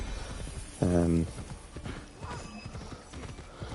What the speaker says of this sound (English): While we're riding the horse to the next objective